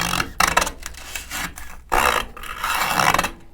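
Sandpaper rubbing and rasping against the corners of effects pedal light plates to round them, in several close bursts of scraping strokes with short pauses.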